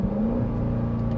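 A 2024 Dodge Durango SRT 392 V8 accelerates hard in track mode, a steady loud engine drone whose pitch rises gradually and holds close and dominant throughout, with no talking.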